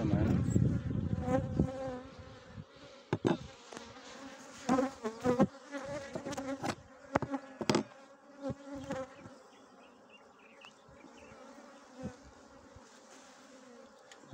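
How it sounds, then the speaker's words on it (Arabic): Honeybees at an opened hive whose lid is crowded with bees, buzzing in a dense, steady drone, broken by sharp clicks and knocks as the hive is handled. "راه نحل بدنينا في الغطاء، ما شاء الله"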